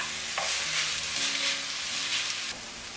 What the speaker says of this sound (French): À présent je rajoute mes poivrons.